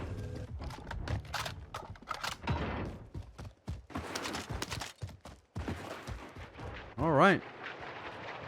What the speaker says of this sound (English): So there's those rockets still making tons of noise